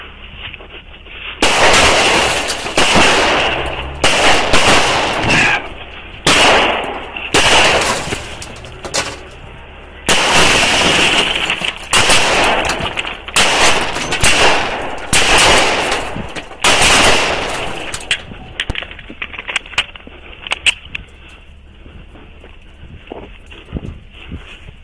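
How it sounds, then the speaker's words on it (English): Repeated gunfire rings out at a crash scene, a rapid series of loud, sharp cracks in close bursts with short gaps, continuing for several seconds before fading into a quieter rumble and stray pops. "Shots fired! Shots fired!"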